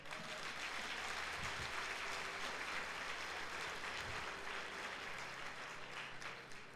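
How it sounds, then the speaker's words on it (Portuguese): A Sunday church congregation applauds in a steady, sustained wash of clapping, moderately distant and even, with a faint sustained organ-like tone underneath. "Vamos dar um aplauso a Jesus."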